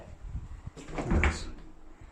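A door in an abandoned care home in Manchester swings open, a single muffled creak and knock heard alone in a quiet room, rising and fading within about a second.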